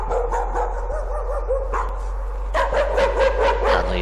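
A dog in the horror game Layers of Fear barks in rapid repeated bursts, loud and close, over a constant low hum.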